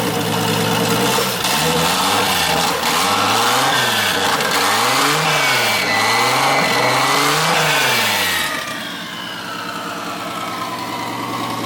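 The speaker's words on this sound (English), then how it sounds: "We got a running Supra." A Toyota Supra MKIV single-turbo 2JZ engine runs after its first startup in years, loud and close, with repeated rising and falling revs before settling back to a rougher idle.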